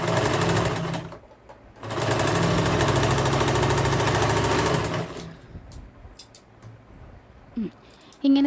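A sewing machine stitching fabric pieces for a small child's dress along a quarter-inch seam, running steadily in two sustained bursts with a brief pause between, then stopping, leaving faint handling clicks.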